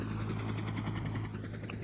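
Aircraft in the Roblox video game, a close, steady whirring engine drone with a rapid rotor-like pulsing, alone and fairly quiet.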